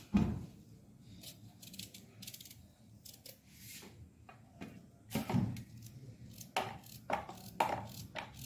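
Knife chopping kashifal pumpkin into small pieces for pakoras, a series of uneven close cuts on a board, a few of them louder, with a faint background hum and no talk.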